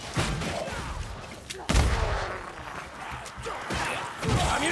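Gunshots from a ranger veteran's firearm ring out in Warhammer Vermintide, fighting in a war camp, as several sharp, loud reports come at uneven intervals with combat noise between them.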